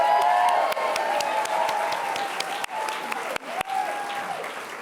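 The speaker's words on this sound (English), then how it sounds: "Can we just have a round of applause for Jackie Bird, please?" An awards-ceremony audience in Glasgow applauds steadily for presenter Jackie Bird, a dense, sustained round of clapping from a large crowd with a few louder individual claps standing out.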